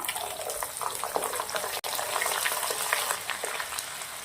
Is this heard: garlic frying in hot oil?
yes